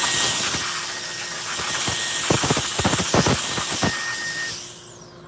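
Compressed air blows dust off wood freshly sanded to 240 grit in a workshop, a loud close hiss with several short sharp bursts.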